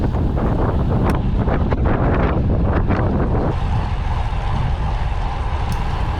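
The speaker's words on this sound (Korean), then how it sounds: "바람이 좀 세긴 했는데 그래도 측풍이라서" Strong crosswind buffeting the microphone while cycling on a road on Ganghwa Island, a loud continuous rumbling roar that rises into louder gusts before settling into a slightly steadier rush, no talking.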